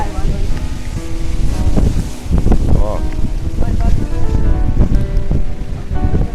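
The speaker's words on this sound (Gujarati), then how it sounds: "આ દરિયાનો ભયંકર ઇલાકો છે." Wind buffets the microphone on a rugged stretch of sea coast while waves surge and wash steadily underneath, with a voice speaking briefly over the loud, continuous roar.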